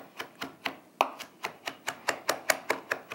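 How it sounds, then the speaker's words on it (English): Rapid rhythmic knife taps mincing food on a cutting board, about fourteen crisp close strikes in steady fan-motion cadence, with no talking. "I'm pivoting the base of the knife back and forth, up and down, in a fan motion"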